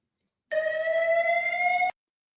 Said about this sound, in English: We don't need to hear the sirens.